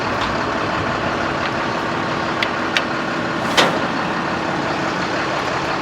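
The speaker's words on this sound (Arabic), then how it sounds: "دي دورة دي بتاعت القلاب دي بص بص القلاب" A TATA dump truck engine runs nearby in a steady, continuous rumble, with a few faint, brief clicks and beeps over it and no one speaking.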